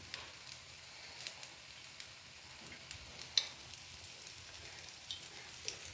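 Paddu batter sizzles steadily in an oiled paddu pan, a soft continuous crackle with faint pops scattered through, fairly quiet and heard alone without talk.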